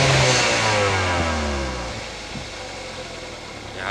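A Hyundai i30 with a 1.6-litre turbo engine, 186 hp, revving near the microphone: a rich, loud engine tone that falls in pitch over the first two seconds, then a low steady idle rumble and a slight rise again at the end.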